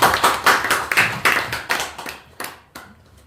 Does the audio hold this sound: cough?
no